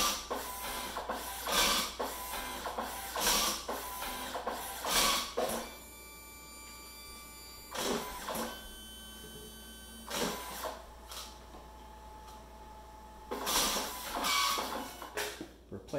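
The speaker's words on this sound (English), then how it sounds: "Close the printer, and it will go through a loading procedure" DNP RX1-HS photo printer running its paper loading cycle, giving a series of rhythmic mechanical whirs and clunks from rollers and motors, with a steady tonal motor hum in the pauses between.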